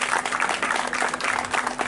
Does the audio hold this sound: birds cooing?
no